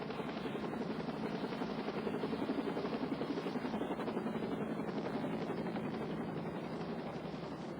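A medical life flight helicopter, its rotor throbbing steadily and loudly from start to finish with a constant engine whine, with no talking.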